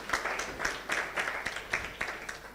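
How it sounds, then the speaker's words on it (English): A hall audience at a youth policy and governance dialogue gives another round of applause for a speaker, soft and fairly distant clapping that swells in rhythmic bursts with no talking over it. "another round of applause for Florence"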